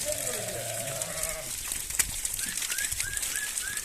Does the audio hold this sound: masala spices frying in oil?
no